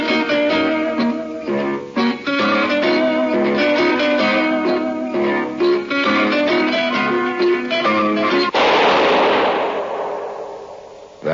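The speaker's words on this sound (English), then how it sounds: "That was the shot that killed Harry Lime." A gunshot sound effect in a 1951 radio drama, The Lives of Harry Lime, heard after zither music: the melody plays, then a single loud blast cuts in and fades out with a rumbling decay.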